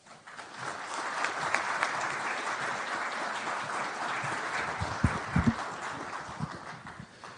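Sustained applause from a lecture audience greeting a Vanderbilt University lecturer at a university lecture, steady clapping throughout with a few louder claps near the end.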